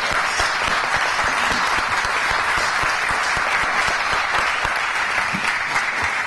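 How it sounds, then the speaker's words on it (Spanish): Audience applause for a Nobel literature laureate introduced at a book-contest launch event, a steady, dense clapping from a sizeable crowd held at even loudness throughout. "El aplauso para él."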